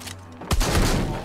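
A single heavy gunshot from the video game Arizona Sunshine booms after a quiet moment and its low rumble lingers.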